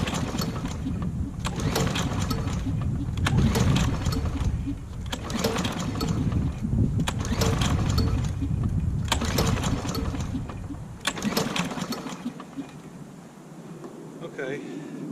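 Small-engine lawnmower with a failed electric start, engine cranking and sputtering in repeated pull bursts, with an uneven rhythmic chug throughout and a dying-off near the end; someone talks over it.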